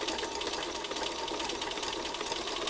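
A sewing machine stitches fabric with lightweight 50-weight Aurifil thread, giving a continuous, even, fast mechanical whir that stays steady for a few seconds with no talk.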